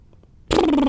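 A person imitates a cat's purr with a deep, resonant rumble felt in the chest. It starts abruptly halfway through and holds loud and steady to the end, after a faint breath.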